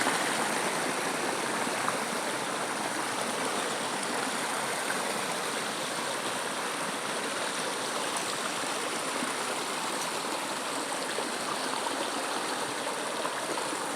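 A river runs steadily at its spring source at the Domaine de la Salz, a close, even rush of flowing water that goes on without a break and has no talk over it.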